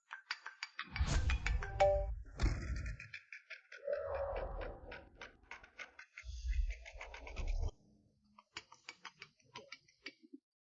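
A mobile phone ringtone plays as a bright, chiming electronic melody in quick repeated notes, loud at first over deep low rumbles, then continuing as a lighter run of ticking tones.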